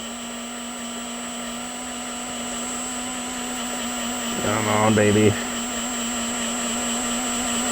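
A power drill bores out rivets on a Toyota MR2 in a brief, roughly one-second whining burst over a steady background hum, with a short spoken remark from a man nearby.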